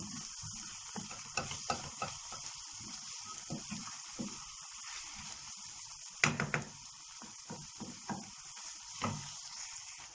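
Spiced filling with red pepper flakes, chili powder and black pepper stirred in a pan for a çörek, soft irregular scrapes and light sizzling, quiet and close with occasional louder knocks.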